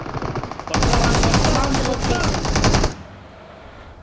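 Groza rifle fire in a shooting video game: a loud, continuous burst of rapid automatic shots lasting about two seconds, with quieter game ambience before and after.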